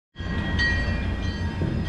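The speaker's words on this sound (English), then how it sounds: "Here's our choo-choo train." A Texas State Railroad excursion train near Palestine, Texas, rumbles close by in a loud, steady, continuous roar with a faint high whistle-like tone on top.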